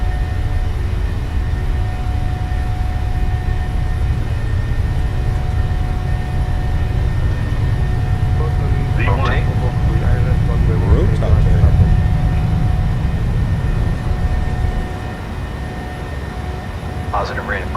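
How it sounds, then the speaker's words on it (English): Boeing 737-800 engines at takeoff power in a flight simulator, a loud steady low roar throughout that drops somewhat near the end, with people talking over it. "Takeoff power set."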